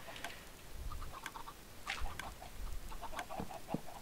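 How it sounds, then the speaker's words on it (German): Chickens in the video game Minecraft give soft, repeated clucks at scattered intervals, fairly quiet over light background noise. "Ich denke nicht, dass die Hühner bis da hinten hinkommen."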